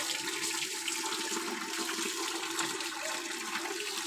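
Water pours and splashes steadily and fairly loudly while a dog is bathed at home, a continuous rushing wash with no pauses.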